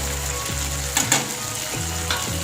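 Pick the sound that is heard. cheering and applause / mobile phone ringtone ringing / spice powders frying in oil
spice powders frying in oil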